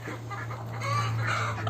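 A young rooster squaring off against a turkey in a backyard ring in Ingushetia, clucking in short, close, moderately loud bursts over a steady low hum.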